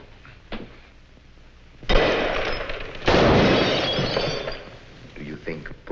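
Gunshots in a 1948 film, two loud sharp cracks with breaking, shattering glass, followed by a noisy tail, amid dialogue.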